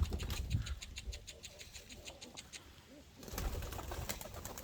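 Pigeons at a lakeside village house coop coo softly in a low murmur, with faint chirps and a rustle of wings, a brief thump near the start and a brighter burst of activity near the end.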